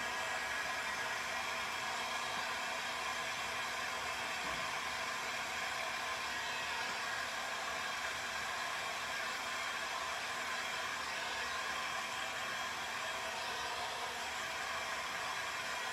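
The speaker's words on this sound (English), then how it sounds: "I'm going to actually use the blow dryer." A blow dryer runs continuously to heat-set ink on vinyl stickers, a steady even whoosh of airflow with a faint motor hum, alone and unbroken.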